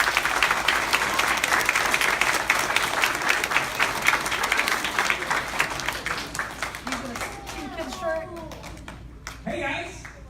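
Lively audience applause greets the president of a real estate company at a kids' event, dense rapid clapping that gradually thins and fades, with voices and cheering coming through near the end.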